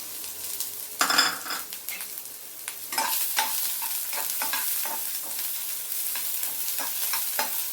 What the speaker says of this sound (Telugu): ఇవి కొంచెం ఎర్రగా వేగాలి ఉల్లిపాయలు